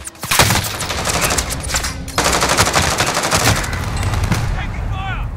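Rapid automatic gunfire in Call of Duty: Modern Warfare, loud dense bursts of machine-gun shots with a brief pause, then sustained firing trailing into scattered shots.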